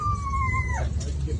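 Dog giving a short, clear high-pitched howl that slides downward and fades over a low background hum, lasting about a second.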